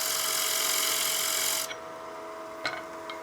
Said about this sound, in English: I'm going to use the bigger gouge just to get rid of some of that bulk